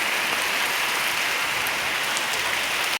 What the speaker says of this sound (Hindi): बारिश रुकने का नाम नहीं रही।